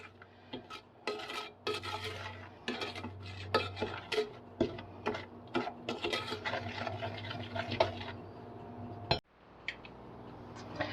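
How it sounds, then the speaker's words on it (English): Spoon stirring brown sugar and butter in a pan, a steady run of quick scraping and clinking strokes against the metal, fairly close, alone without talk, with a low hum underneath. "I'm stirring here and just waiting to get this all blended in until the brown sugar is dissolved."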